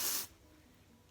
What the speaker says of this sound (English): I'm just gonna shake it up, and then I'm gonna go back in and spray